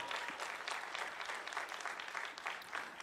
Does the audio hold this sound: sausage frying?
no